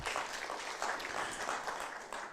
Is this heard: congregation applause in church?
yes